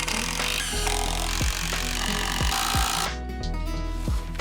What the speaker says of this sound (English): Now we're going to screw the legs on.